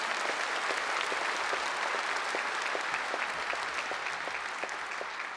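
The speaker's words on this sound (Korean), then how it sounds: "경축 공연 해주신 여러분께 뜨거운 박수 부탁드립니다" Audience at a Liberation Day ceremony applauding performers, a broad sustained wave of clapping from a large crowd, even and continuous throughout.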